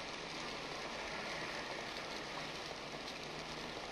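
Heavy rain pours down steadily in a dense, even hiss, fairly faint and constant throughout with no voices.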